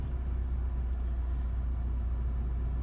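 A 2013 Volkswagen Beetle 2.0 Turbo with a stalling problem idles steadily, a low, even engine hum and rumble heard up close with no clear start-up burst.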